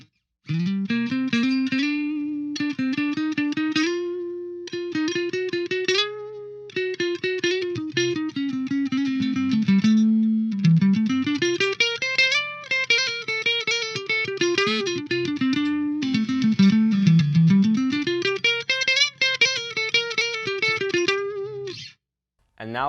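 An ESP LTD EC-1001T electric guitar played clean through its neck pickup in single-coil mode, with chords and single-note melodic lines that ring continuously and up close, and no voices.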